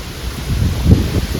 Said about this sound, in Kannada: ಎಂತ ಗಾಳಿ ಅಂದರೆ ಓ ದೇವರೇ